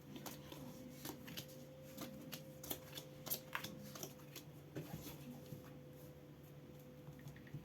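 Lenormand cards shuffled by hand in a quiet room, producing repeated crisp, papery riffles and flicks with a steady rhythm, close and fairly soft, with no talking.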